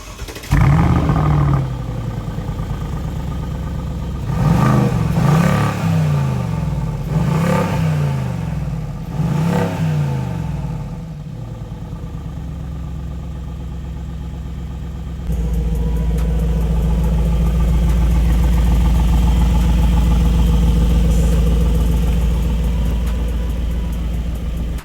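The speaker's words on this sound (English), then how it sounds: "Cold start, ladies and gentlemen." A 2019 Mercedes G550 engine cold-starts, cranking and catching, revving in several loud bursts through a newly installed Fi exhaust before settling into a steady, deep exhaust rumble at close range.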